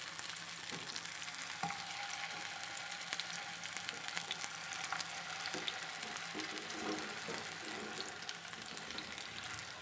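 Mutton malai tikki kebabs sizzle in hot oil in a pan over a lowered flame. A dense, even frying hiss runs throughout, with a few faint clinks as the patties are set down.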